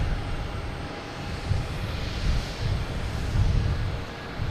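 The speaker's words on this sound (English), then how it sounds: "we got Japan Airlines coming in here. Landing on 22 left." Japan Airlines jet landing on runway 22 Left at Boston Logan Airport at night, a loud continuous engine roar with broadband rumble swelling and easing as the aircraft passes, no voices.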